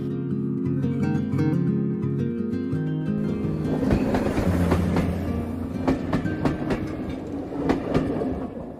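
A train rolls steadily along the rails in Zambia, near the Kafue River, rhythmic clickety-clack of wheels over joints with a deep rumble, loud and close, no voices.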